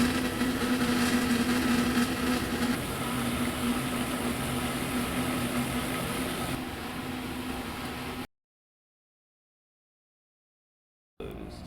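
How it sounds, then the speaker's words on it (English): A recirculating water pump in a pump lab hums with a steady whir and a constant tonal drone for about eight seconds, then cuts to silence before a brief return of the noise, with no talking. "where it will again go to the inner pump, then follow to the outer pump, and complete that cycle yet again"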